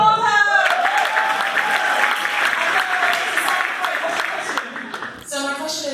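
An audience at a panel discussion bursts into sustained applause. The clapping starts loud and full, then thins and fades toward the end, and a voice comes in just after it dies down.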